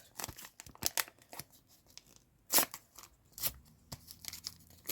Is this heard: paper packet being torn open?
yes